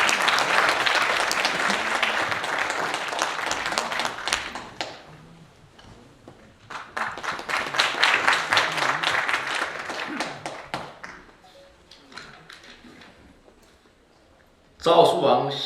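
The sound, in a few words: audience applause for ambassador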